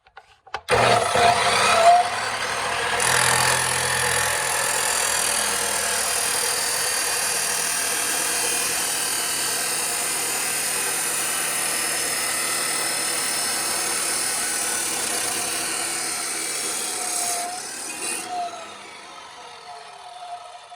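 A Harbor Freight 14-inch chop saw cuts through metal with a loud, steady abrasive whine and grinding that runs almost unbroken for about fifteen seconds, starting with a short spin-up and ending as the blade winds down.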